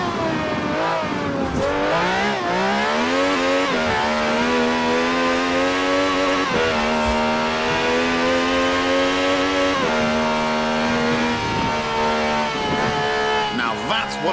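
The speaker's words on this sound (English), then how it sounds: "This is a V12 with over 750 horsepower, plus bucket seats." A V12 car engine of over 750 horsepower in Forza Horizon 4 revs hard and close, its rich harmonic whine climbing through repeated rises and gear changes, loud and continuous from start to finish.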